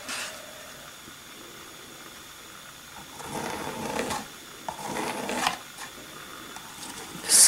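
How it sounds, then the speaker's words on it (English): A tool drags acrylic paint across a canvas with soft, breathy scraping strokes, heard as a couple of short rasping passes over quiet background hiss. "Scraping it across."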